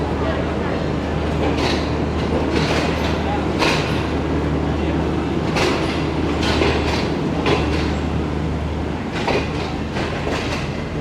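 The Shalimar Express from Karachi to Lahore rolls along in a steady loud rumble with rhythmic clickety-clack of wheels over rail joints, heard from inside the moving train.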